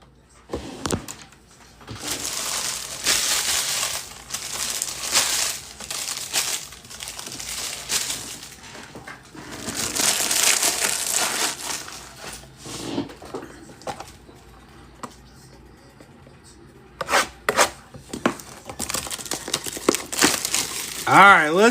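Topps Chrome trading card packs ripped open during a live card break, with repeated bursts of crinkling foil and tearing wrappers coming close and loud between quieter stretches, while people talk now and then.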